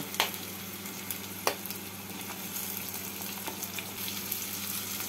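Potato pieces and onions fry in hot oil in a pan for an okra and potato dish, a steady close sizzle with occasional sharp clicks of stirring, no talking.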